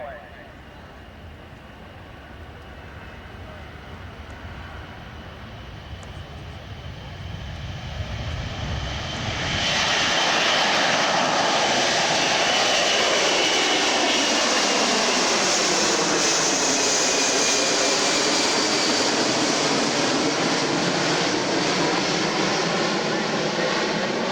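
A military aircraft takes off at a 2001 airshow, climbing steeply at about 25 degrees nose up. Its engine roar swells from a distant rumble into a loud, sustained, broadband roar that holds to the end.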